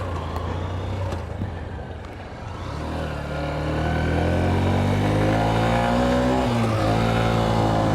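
Honda CB125F motorcycle engine revving hard in third gear as a worn, over-adjusted clutch slips, the pitch climbing steadily and loudly over several seconds with no voices.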